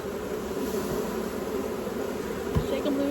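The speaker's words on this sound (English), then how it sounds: "Lots of bees." Dense, steady buzzing of many honeybees swarming around an open hive during a frame-by-frame queen search, a loud continuous drone filling the whole stretch with no talk over it.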